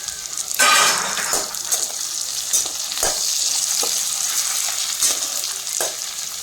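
Curry leaves dropped into hot oil already frying garlic, coconut and onion, bursting into a loud crackling sizzle with sharp pops and spatters, then a steady hiss with occasional stirring clicks.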